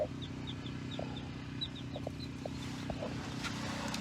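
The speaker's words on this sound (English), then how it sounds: "Here's broody hen number 3." A broody hen sits upset in her nest, giving low continuous clucks and grumbles close by, with faint bird chirps in the background.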